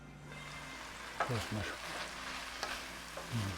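Mushrooms and broccoli simmering in a small amount of broth in a pan, with a soft sizzle and several close stirring scrapes in bursts, no voices.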